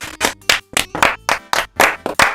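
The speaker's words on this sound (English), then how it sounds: "Give that man a round of applause." A round of applause at a silly paint-off competition, heard as about a dozen sharp, distinct claps in a quick uneven rhythm, loud and close with no talk over them.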